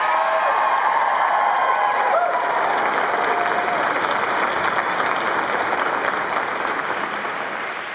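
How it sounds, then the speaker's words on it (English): Graduates at a university convocation ceremony applaud in a loud, sustained wave of dense clapping that fills the hall, with some cheering and voices mixed in, tapering slightly toward the end. "reciprocate by applauding your family, friends, faculty and staff, and all those who helped you reach your goal"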